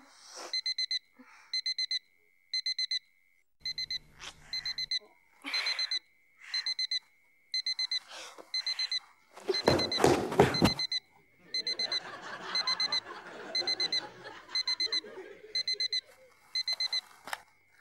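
An alarm clock beeps in repeated rapid bursts, loud and steady, while people talk and chuckle over it partway through.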